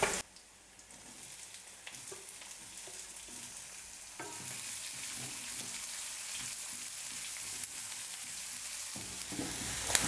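Onion sautés with green chilli and dal in a pan for an Indian breakfast dish. After a quiet first second, a steady, dense sizzle takes over and continues close and even, with faint stirring scrapes.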